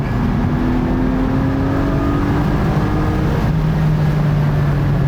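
A 2020 Porsche 718 Boxster Spyder six-cylinder engine drones loudly and steadily from inside the cabin, its pitch climbing smoothly before settling into a lower hum.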